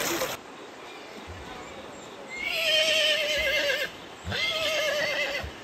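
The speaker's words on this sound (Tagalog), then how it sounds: "Kakatakot lang ang mga kabayo, nagtatakbuhan oh." Running horses whinny loudly in two long, wavering calls, with faint hoof sounds and outdoor background noise between them.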